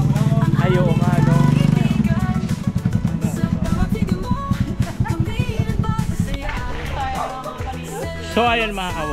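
A motorcycle engine idles and revs close by on an island road, a low steady throb that rises then settles, with people talking over it.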